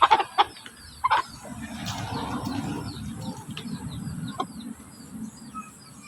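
Chickens cluck in short bursts at the start, then softer bird calls and low rustling continue in the background, fairly close.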